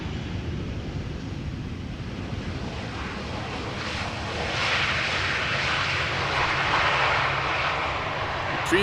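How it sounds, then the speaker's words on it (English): A Boeing 737-800 airliner arriving at Schiphol from Copenhagen rumbles steadily, its engine roar stepping up midway and holding at a moderate, even level, with wind-like hiss and no speech. "this is the airplane that is arriving from Copenhagen"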